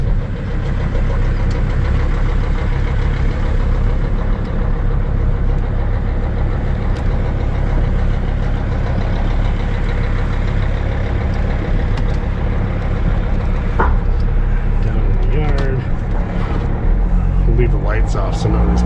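Diesel engine of a 2006 Sprinter van with a rusty downpipe idling with its glow plugs off, a steady, loud, continuous low rumble throughout, with a voice speaking over it near the end.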